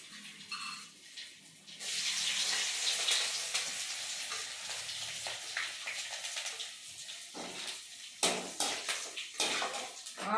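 Buttermilk chillies drop into hot oil and fry with a loud, sustained sizzle and hiss, punctuated by clinks of a metal spoon stirring against the pan.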